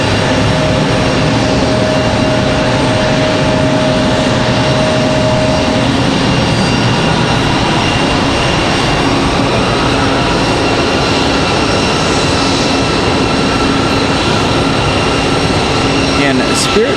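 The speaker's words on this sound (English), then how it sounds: "So that last departure was Delta 2600 headed to Atlanta" A Delta jet departing Raleigh-Durham for Atlanta, a loud, sustained broadband engine roar with faint steady whining tones, continuous for the whole stretch.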